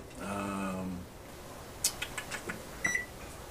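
A microwave oven hums steadily for about a second, then quiet clicks and taps follow before a single short electronic beep near the end.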